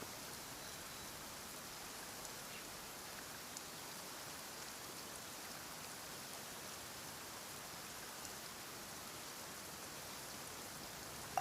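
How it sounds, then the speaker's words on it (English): Steady rain falls in the video game Genshin Impact, a dense even hiss of drops that runs unbroken from start to finish, with no voices or other sounds. "Why is it raining all of a sudden?"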